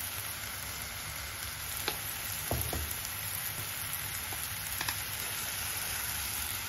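Onion-garlic masala fries in a hot pan for matki bhaji, giving off a steady close sizzle with a few soft stirring knocks.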